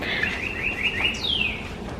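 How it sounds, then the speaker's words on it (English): Birds chirping outdoors in the morning, a few bright whistled calls and a sweeping descending note over a steady soft background hum, no talking. "I don't know if you can hear those birds out there"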